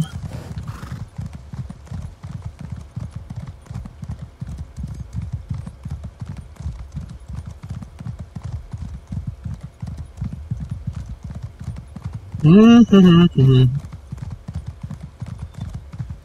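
A horse gallops in Elder Scrolls Online, its hooves beating a fast, steady clip-clop throughout, with a loud neigh bursting in near the end.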